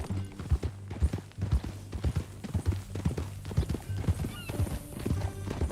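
Hooves of a horse in Red Dead Redemption 2 clip-clop steadily in a quick, close rhythm, with a brief whinny and faint game ambience underneath.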